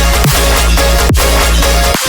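Dense electronic remix track built with the Bismuth and Beam plugins, a loud layered synth sound with drums and sweeping pitch drops, continuous and full with no voices.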